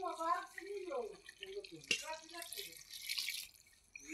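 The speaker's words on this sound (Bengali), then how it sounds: "এখন একটু ঝোলের পানি দিয়ে দেব।" Water is poured into a pot of desi chicken curry with jackfruit seeds, giving a brief splashing rush under a voice.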